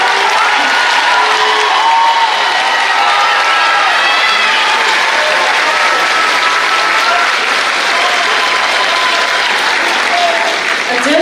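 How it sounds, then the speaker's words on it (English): Loud, sustained audience applause fills a high school graduation ceremony as honor students stand to be recognized, a dense, steady wash of clapping with scattered cheers and voices throughout. "We'll clap you again."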